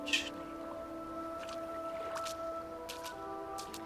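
Footsteps splash through shallow water in the video game The Vanishing of Ethan Carter, a handful of separate wet squelches at irregular spacing over a steady tonal game ambience.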